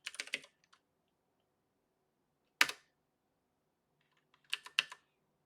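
Linux commands typed on a computer keyboard: a quick flurry of key clicks, then a single sharp keystroke cluster, and another short burst of taps near the end, close and crisp with quiet gaps in between.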